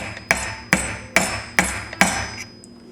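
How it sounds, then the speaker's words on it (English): Five sharp metallic hammer strikes on a screwdriver, knocking out a garbage disposal's knockout plug, ring out at a steady, even pace, each with a brief ringing tail, close by with no talking. "we're just going to knock this out using a hammer and a little screwdriver"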